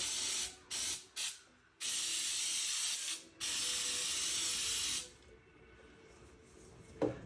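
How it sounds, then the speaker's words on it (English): Several short bursts of baking spray on the sides of a pound cake pan followed by two longer hissing sprays, close and loud, then quiet with a faint click at the end. "give it a nice little spray all on the nice sides here"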